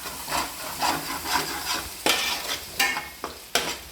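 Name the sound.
frying and stirring in a pan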